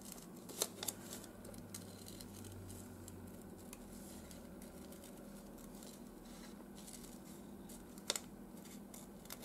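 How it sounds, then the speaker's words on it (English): Scissors fussy-cut a paper flower for a collage, giving faint snips and a couple of sharper clicks over a soft, steady hiss, close and quiet with no talk. "I can just fussy cut the flower out a bit"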